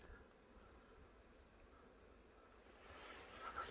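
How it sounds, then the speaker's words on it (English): Bees droning around a hive lodged in the walls of an old house at a former house site, a steady low outdoor hum that swells slightly toward the end. "Oh wow, I can hear those bees."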